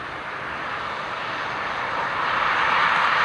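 An airliner taking off at Dublin Airport, its engines giving a steady broad roar that swells slightly louder over a few seconds, heard from a distance with no talk.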